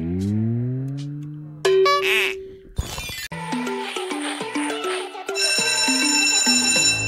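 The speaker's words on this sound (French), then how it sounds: "Oh, c'est la sonnerie!" A bright electronic ringtone plays a chirpy melody of stepped tones, loud and close, repeating its jingle without any talk over it.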